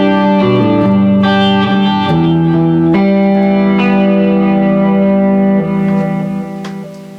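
Electric guitar played dry with no effects pedals engaged, sustained chords and picked notes ringing loud and close before the sound gradually fades.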